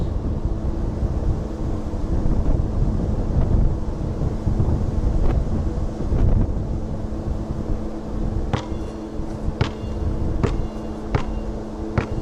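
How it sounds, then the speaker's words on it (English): Wind batters the camera microphone outdoors, a constant heavy low rumble with rising and falling gusts and a few faint knocks. "Oh, it's a windy, it's shaking the camera even now."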